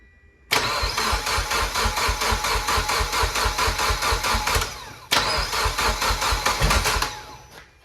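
A rebuilt Mitsubishi Evo X engine cranks with a rapid rhythmic chug, cuts out briefly, then cranks again, loud and close with no voices.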